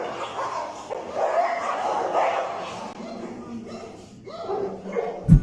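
Dogs bark, yip and whimper during a fight caught on a phone camera, with a jumble of snarls and sharp yelps at moderate distance and a brief loud thump near the end.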